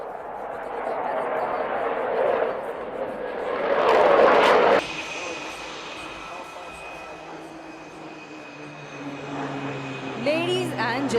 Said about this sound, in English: the aircraft is coming in for a series of neatly crafted rolls